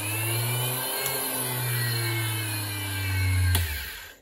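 The motor of a Meteor KSB 6 drill grinder runs with a steady, loud hum and a slight pitch drift, a couple of faint clicks, then winds down at the end.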